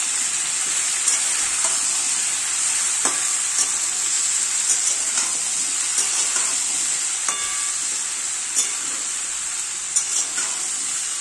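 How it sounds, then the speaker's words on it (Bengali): Half-ground paste being stirred into hot oil in a pan for a Bengali dal dish, a steady bright sizzle with scattered scrapes and taps of the spoon against the pan, heard alone. "তেলের সাথে এটা মেশাবো।"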